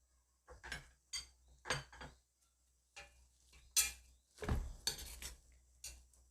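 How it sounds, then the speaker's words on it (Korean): Boiled red beans for Korean sirutteok rice cake are lightly mashed, giving a series of soft, close clinks and scrapes of a utensil against a bowl in uneven taps with quiet pauses between. "완전히 으깨지진 않고 이렇게 해서 살짝 으깨주겠습니다"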